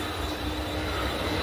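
A Mumbai local train on the CSMT to Kurla run starts to move after a stop, giving a steady dense rumble with a thin high whine from the wheels, close and continuous, without voices.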